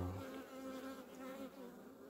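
Buzzing of a struggling honeybee colony infested with varroa mites, close and faint, a dense continuous hum with shifting pitch, no speech.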